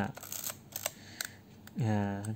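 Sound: film camera shutter firing

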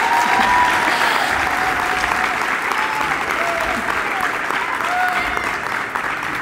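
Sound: audience applause at a school letter of intent ceremony

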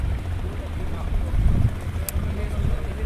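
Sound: boat coming in on the Gomti river

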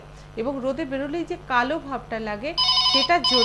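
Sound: telephone ringing during TV show

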